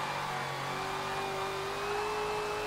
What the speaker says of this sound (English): Get on the gas, get that back end out just a little bit.